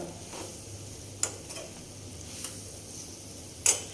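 Bitter gourd pickle frying in a pan on a gas stove, a soft steady sizzle with occasional sharp clicks and scrapes of stirring against the pan, close and quiet, without talking.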